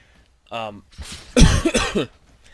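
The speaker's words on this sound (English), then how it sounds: "Don't know why I have a cough this morning." A man coughs twice in close succession, near and fairly loud, after a brief spoken sound, indoors at a microphone.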